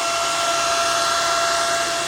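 A Porsche battery cooling fan, repurposed as the blower for a homemade smoker, whirs with a steady, loud, broadband rush and a faint constant tonal whine, running unchanged throughout.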